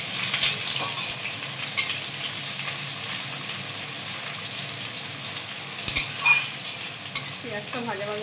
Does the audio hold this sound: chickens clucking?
no